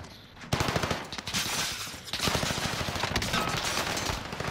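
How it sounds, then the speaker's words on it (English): Video game gunfire, a dense stream of rapid automatic shots and bursts that runs almost the whole clip, loud and close, starting abruptly after a brief quiet moment. "I'm under fire!"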